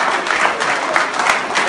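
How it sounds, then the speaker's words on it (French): A crowd at a cycling Grand Prix gives applause for the cycling club president, a steady wash of clapping that is fairly loud and has no talk over it. "Vous pouvez l'applaudir."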